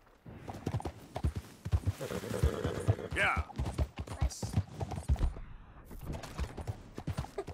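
Hooves of a Missouri Fox Trotter horse in Red Dead Redemption 2 clip-clop in a steady trotting rhythm, close and clear, with a brief whinny partway through and someone talking over them.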